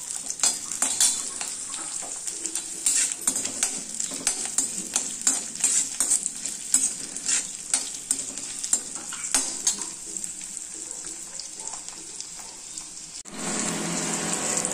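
Tomatoes, ginger, green chillies and shallots sautéing in a pan for a green chutney: a steady close sizzle broken by frequent scraping stir strokes, with a louder hissing burst near the end and no talking.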